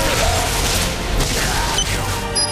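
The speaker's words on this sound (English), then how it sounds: "nail them again with another fine implement of murder, the Heavenly Flail Gun" Flail Gun fire from the video game Bulletstorm, a dense, continuous burst of blasts and booming impacts at steady loudness over roughly two and a half seconds, with no talking.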